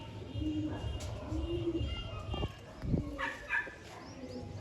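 Soft, low pigeon coos repeat a few times at a moderate distance, with a voice speaking over them and some faint rustling.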